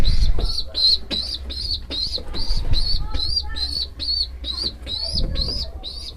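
Pigeons fill the space with repeated high chirps and soft cooing, mixed with fluttering and shuffling noises, close by and fairly loud.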